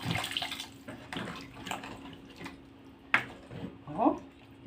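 Warm water poured into a clay pot of honey-and-sugar oxtail stew on the stove, with soft splashing and trickling in short bursts while a person talks over it.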